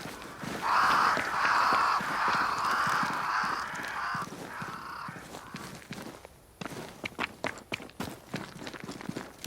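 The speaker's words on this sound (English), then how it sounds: "Crows. They flock to that great tree up there." Crows flocking to a great tree in the video game Banishers: Ghosts of New Eden, several loud overlapping caws for about five seconds, followed by a string of crisp footsteps on the ground.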